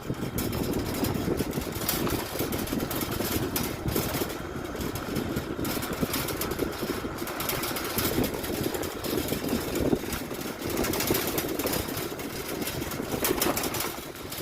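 A cheap 1,000-baht electric vehicle on a battery test ride gives a steady rumbling drone with road and wind noise, continuous and fairly loud throughout.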